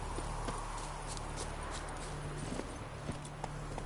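Horse hooves clip-clop at a steady walking rhythm in the Witcher 3 video game, soft and continuous over a constant low hum of game ambience.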